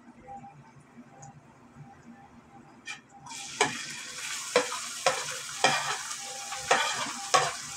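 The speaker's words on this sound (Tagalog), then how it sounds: "Tapos ito, lagay ko na itong chicken." Chicken sizzles as it fries in a pot for sopas, with a steady crackling hiss. A utensil repeatedly scrapes and stirs in sharp, regular strokes that grow louder partway through.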